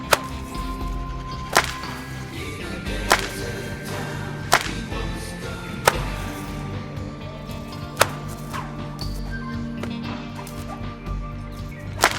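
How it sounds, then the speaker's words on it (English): A nylon bullwhip cracks repeatedly, with sharp loud snaps coming roughly every one and a half seconds, each one standing clearly above a low background hum. "the whip moves over the head, you have a loud crack, very impressive"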